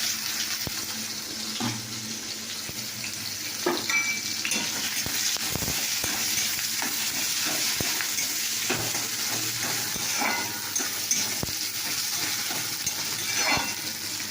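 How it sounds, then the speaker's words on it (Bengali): Bay leaves and chopped onion frying in hot oil, a continuous watery crackle and hiss close by with scattered sharp pops and clicks, steady for the whole stretch. "তো ওইদিকে দেখো তেল হয়ে গেছে, তো দেখো বন্ধুরা দেখো তেজপাতা দিয়ে দিলাম, পেঁয়াজ কুচুনি ছেলে দিয়ে দিই"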